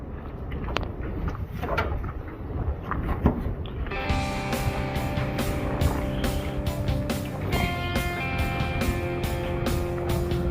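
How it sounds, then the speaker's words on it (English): A 1980 Mercury Bobcat (a Ford Pinto twin) with 300,000 original miles cold-starts on its first outing of the year. Quiet outdoor noise comes first, then the engine catches partway through and settles into a steady, close, humming idle. "we'll start out with a little cold start video from yesterday, getting it out for the first time this year"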